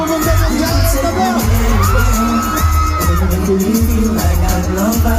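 Festival crowd at a large outdoor Filipino street festival in Toronto, shouting and cheering loudly in dense, continuous waves, with bangs and whoops rising above the din.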